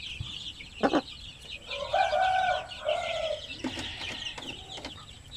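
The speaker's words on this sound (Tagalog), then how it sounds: "Yan yung mga 16 days old na mga Shamu Asil, oh." 16-day-old Shamo Aseel chicks cluck and chirp in short bursts against a faint outdoor background, with a few sharper calls breaking in.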